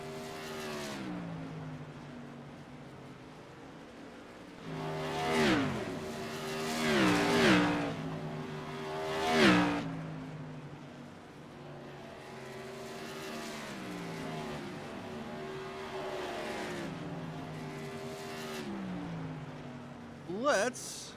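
Race car engines in iRacing on the Nashville Fairgrounds oval, a group of cars droning steadily with rising and falling pitch as they swell past in several loud sweeps, under a commentator's voice.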